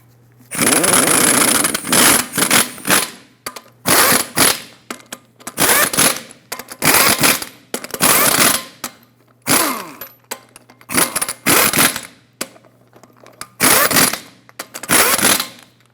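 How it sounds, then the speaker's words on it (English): Lug nuts on a Dodge Ram 2500 wheel are tightened in a cross pattern, heard as about nine loud, close bursts of rattling power-tool whirring separated by short silences, with no talk. "Let's torque these lug nuts to 140 foot-pounds in a cross pattern."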